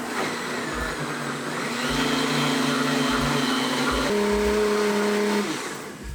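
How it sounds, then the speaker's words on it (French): A blender motor purees cooked sweet potato curry soup with coconut, a loud sustained whir whose pitch steps up partway through and holds steady before winding down near the end. "Pour cette soupe-là, je vais utiliser le blender."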